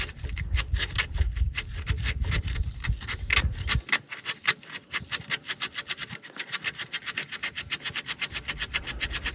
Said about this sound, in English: If the wire brush is not doing the trick,